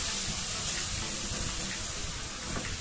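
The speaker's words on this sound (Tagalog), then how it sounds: "Pwede na natin lagyan guys ng water." Water pours into a cooking pot while stuffed squid is being made, producing a steady, close, hissing rush that holds evenly for a few seconds with no talking.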